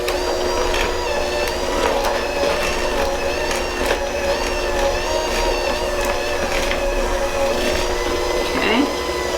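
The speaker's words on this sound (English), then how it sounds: "I am going to add in a little of the powdered sugar and mix a little bit at a time in." Electric mixer whirring steadily as powdered sugar is blended a little at a time into frosting for a carrot cake jelly roll, a continuous close motor hum with faint clinks against the bowl.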